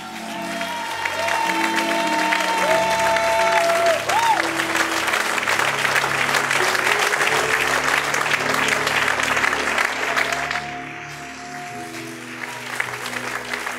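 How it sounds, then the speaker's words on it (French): A standing church congregation at a worship service breaks into long, sustained applause and cheering, dense clapping filling most of the stretch before easing, with organ or keyboard tones held underneath. "Je veux que tu te tiennes debout et que tu portes une grande acclamation au Seigneur Jésus."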